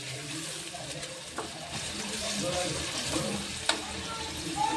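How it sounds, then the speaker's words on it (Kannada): Ground onion masala fries in oil for a hotel-style paneer gravy, a close, continuous sizzle with intermittent stirring scrapes and a few sharper clinks. "ಇದನ್ನು ಈಗ ಎಣ್ಣೆ ಒಳಗೆ ನೀಟಾಗಿ ಫ್ರೈ ಮಾಡ್ಕೋಬೇಕು ರೀ."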